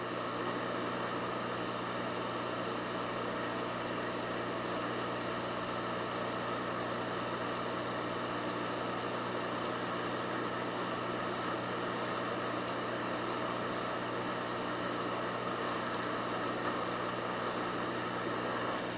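Hot air rework station blowing steadily while desoldering a BIOS chip from a 3DO console board, a constant, moderately loud airy hiss with a low hum that runs unbroken throughout, with no talking.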